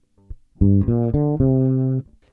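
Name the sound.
dry fretless bass guitar signal without compression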